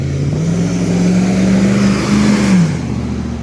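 A car's engine drones loud and close at night, revving steadily higher as the driver throttles it, then easing off at the end, with no talk over it.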